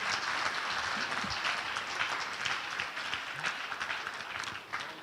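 Applause from an audience at a hackathon grand finale as the first runner-up is announced, a steady wash of clapping that holds at moderate level for the whole stretch with no talk over it.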